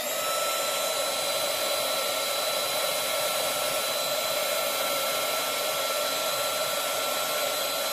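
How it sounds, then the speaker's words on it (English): Heat gun blowing hot air onto shrink tubing while adapting a party light, a steady close whooshing hum with a constant fan whine, unbroken for several seconds with no voices. "you take a heat gun and it heats up"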